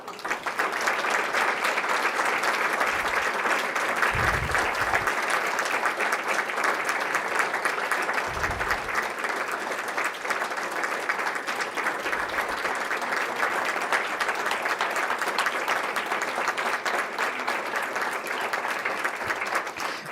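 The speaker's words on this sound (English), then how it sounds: "please rise so that we can give you guys a great round of applause" A sustained round of loud, dense applause fills the room as an audience claps for standing medical students at a New Brunswick scholarship gala, steady throughout without a break.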